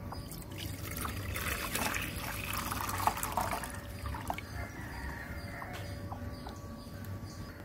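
Water is poured from a small vessel into a pot to make an arjuna bark decoction, a faint trickling and splashing over a steady low background hum, with brief louder drips midway.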